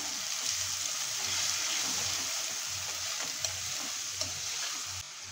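Two large onions just added to oil with spluttering cumin seeds, giving a steady bright frying hiss with scattered small crackles and pops, close and moderately loud.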